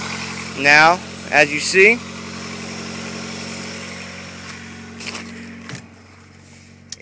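A 1994 Honda Accord engine idling steadily with a low, even hum, heard close, while someone speaks briefly over it early on.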